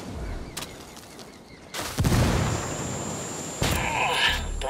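A grenade blast in the shooter Ghost Recon Wildlands, a sharp loud burst followed by a rumbling decay, then a second heavy impact, set against scattered gunfire and background noise.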